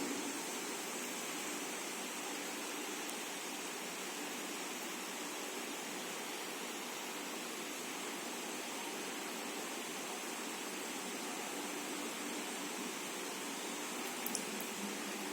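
Water pours steadily into a volumetric flask during a total hardness titration, a constant even rush of liquid lasting throughout, near and fairly loud, with no other sounds.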